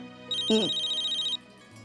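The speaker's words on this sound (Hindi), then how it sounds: "अरे उसी का फोन होगा, उसी का फोन हो।" A home telephone rings with a single sustained electronic trill, fairly quiet and close, lasting about a second with no one speaking over it.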